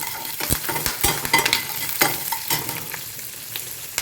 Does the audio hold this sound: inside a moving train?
no